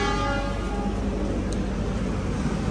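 An executive-class passenger train rumbles steadily nearby at a station in Cirebon, Indonesia, with a low mechanical drone and a faint tonal hum as it pulls away.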